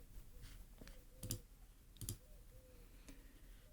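Faint, sparse clicks from a computer mouse at a desk, a few isolated taps spaced about a second apart over a low background hiss.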